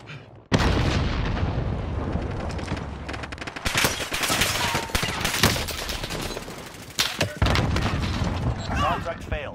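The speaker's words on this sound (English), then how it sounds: "Priming explosives." Explosives detonate in a video game in a dense barrage of loud booms and gunfire-like bursts, with voices speaking over the din throughout.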